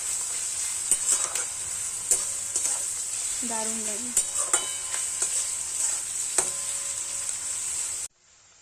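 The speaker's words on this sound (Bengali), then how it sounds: "পেঁয়াজটা ভাজা ভাজা হয়ে গেছে" Onion fries in a pan for a cauliflower-greens stir-fry, with a steady loud sizzle and repeated sharp scrapes from stirring. A short comment is spoken midway, and the sound cuts out abruptly at the end.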